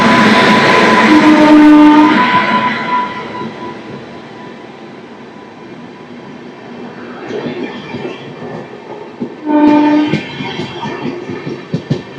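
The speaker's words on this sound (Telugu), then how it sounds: "గుంటూరులో చుట్టూ ఒక ట్రైన్ అయితే బయటకు వస్తుంది" The Rayagada-Guntur Express runs on rails near Guntur, its steady rolling rumble broken by two loud horn blasts, one early and one near the end.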